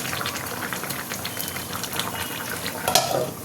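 Hilsa fish curry gravy with potato and eggplant bubbles in a pot, a dense, continuous simmering crackle with small pops throughout and a slightly louder burst of bubbling near the end.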